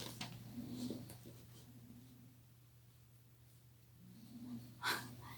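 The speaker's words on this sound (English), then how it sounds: "Dog snoring, taking a nap" Soft, slow snoring breaths rise and fall in a quiet room, close and faint, with a louder snort near the end.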